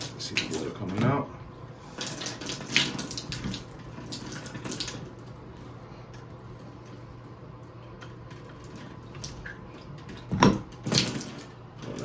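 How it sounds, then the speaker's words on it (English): Water runs and splashes from a shower arm with the head removed during a repair on a leaky fixture. The flow is steady and close, broken by a few handling knocks and clatters, and a voice is faintly present. "See the water coming out."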